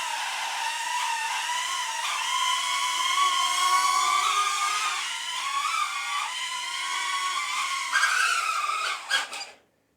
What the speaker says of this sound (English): Throttle down, motor starting.